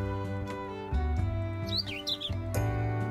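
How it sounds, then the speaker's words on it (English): A bird chirps in a video game: short tweeting calls, then a fluttering run of chirps, heard over loud, steady, tonal game music. "now that the bird's over here"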